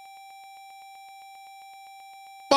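A steady electronic beep repeats in fast, even pulses during a playthrough of The Legend of Zelda, a clear mid-pitched tone that continues alone until a sudden burst of voice cuts in at the end.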